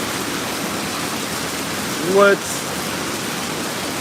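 Hail coming down outside makes a continuous hissing wash of impacts throughout, while a nearby voice briefly speaks over it midway.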